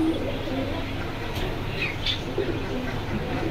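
Pigeons at the Zinzira bazaar pigeon market coo softly and repeatedly against a busy background murmur, with a few faint chirps mixed in.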